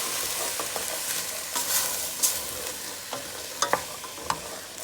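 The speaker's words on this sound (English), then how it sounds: "So I'm gonna add the chana to the pot now. We're gonna mix all that goodness." Chickpeas are stirred in a pot with a spoon, producing a steady close scraping and sizzling texture punctuated by several sharp clinks against the pot.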